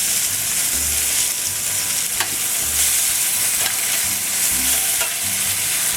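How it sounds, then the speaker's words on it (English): Chicken pieces sizzle loudly in a pan, a dense steady frying hiss up close with brief lower clunks and scrapes from stirring or turning, no voices. "And let this chicken cook up just a little bit."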